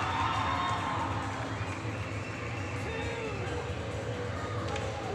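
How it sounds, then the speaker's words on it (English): Hockey fans at a Prowlers exhibition game cheering steadily from a distance, a continuous crowd roar with shouts and babble over arena noise. "the Prowlers fans cheering him"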